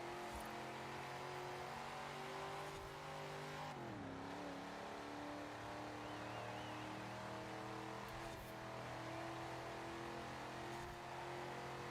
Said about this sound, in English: This engine just screaming